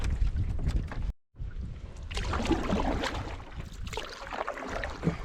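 A canoe paddled into a headwind on a wilderness pond: steady wind rush and mic buffeting mixed with water sloshing against the hull and paddle strokes, close up, broken by one brief dropout.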